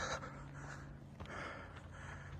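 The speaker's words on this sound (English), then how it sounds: "I'm panting like a rented mule that's been ridden too hard and too long." Heavy, ragged panting up close, quick breaths in and out with a slight wheeze, quiet overall.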